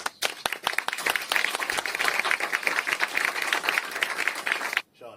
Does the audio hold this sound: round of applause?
yes